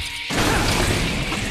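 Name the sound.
battery being smashed out in LEGO Jurassic World video game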